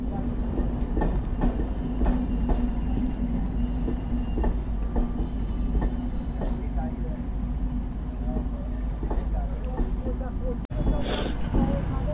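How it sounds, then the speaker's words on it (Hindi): A local train rumbles past with a steady rolling roar and rhythmic clickety-clack of wheels on rail joints, loud and continuous, heard near a Lucknow–Agra expressway setting. "ये है भाई लोकल ट्रेन"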